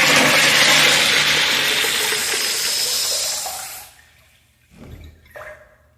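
A repaired urinal flushes with a loud rush of water for about four seconds, then goes quiet, followed by a few brief gurgles as it drains.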